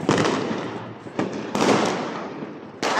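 Fireworks burst repeatedly on New Year's night, a dense, loud barrage of crackling explosions with several sharp fresh blasts cutting through the ongoing rumble.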